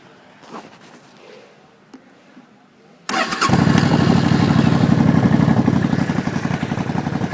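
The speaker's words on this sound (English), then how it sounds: "And as you can see, it just starts right up." A 2002 Suzuki VS800 Intruder, a carbureted motorcycle, cranks and catches, then settles into a loud, close, steady idle with a throbbing rumble after a few seconds of near quiet.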